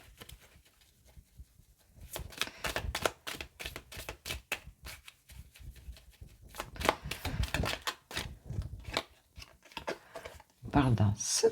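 Tarot cards being shuffled, with rapid, dense riffling and flicking bursts in several runs of a few seconds each, close and crisp, and pauses between runs.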